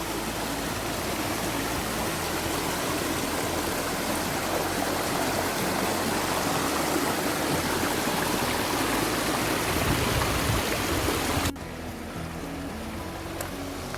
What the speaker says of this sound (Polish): A tutaj jest odpływ z czarnego stawu.